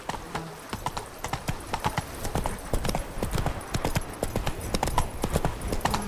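Horse hooves galloping in the video game Witcher 3: Blood and Wine, rapid rhythmic clip-clop beats close and steady throughout.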